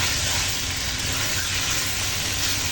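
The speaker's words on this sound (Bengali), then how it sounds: "তার জন্য এখন মাংসটা কষানো হচ্ছে" Chicken pieces sautéing in a pan for a thin chicken and potato curry, a steady close, continuous sizzle and hiss with soft stirring scrapes and no talk.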